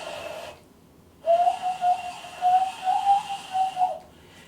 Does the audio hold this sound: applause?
no